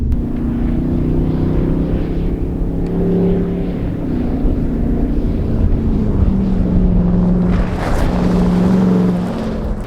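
A Jeep Wrangler 392 AEV with a V8 engine powers over an off-road obstacle, giving a loud, continuous low rumble mixed with buffeting wind noise.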